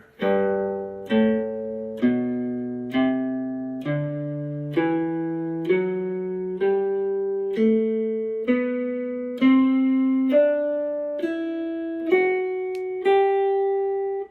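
Electric guitar plucks a rising scale one note at a time across all six strings, starting and ending on the root, each note clear and sustained in a steady even rhythm, played alone up close with no talking.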